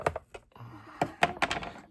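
Side cutters snap through brittle fiberglass-reinforced plastic inside a waffle maker, giving a handful of sharp, close cracks and clicks at an uneven pace.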